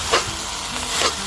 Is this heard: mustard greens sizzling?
yes